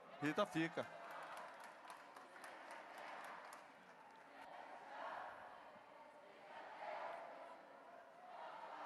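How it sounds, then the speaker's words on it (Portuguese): Distant football supporters of Remo or Paysandu shout and cheer at a festive public event in Belém, Pará, a faint swelling roar rising and falling in waves after a few brief louder bursts near the start. "É a torcida do Remo ou é do Paysandu que tá gritando aí?"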